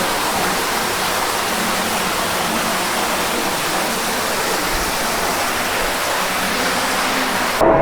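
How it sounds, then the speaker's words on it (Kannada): Steady rushing water fills the whole stretch at Belum Caves, a dense continuous roar like a stream or small waterfall close by, with no voices. "ಆ ಕಡೆಯಿಂದ ನೀರು ಬರ್ತಿದೆ"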